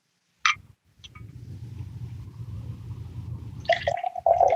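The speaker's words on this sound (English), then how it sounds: "we're gonna put also 1 ounce of water for dilution" Water poured into a cocktail mixing glass, a sharp clink and then a steady low trickle for a few seconds, followed by brighter glassy clinks and a ringing tone.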